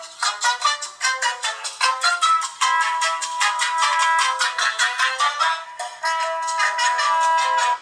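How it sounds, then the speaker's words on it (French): Incoming call ringtone on a Lenovo S650 quad-core smartphone, a bright repeating melodic tone pattern played loudly and continuously with no talk. "Sonnerie d'appel."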